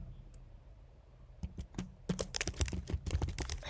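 Computer keyboard typing: a few isolated keystrokes, then a fast run of close, crisp clicks in an irregular rhythm, with no talk over it.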